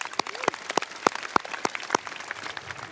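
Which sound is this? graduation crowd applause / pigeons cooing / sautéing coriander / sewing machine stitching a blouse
graduation crowd applause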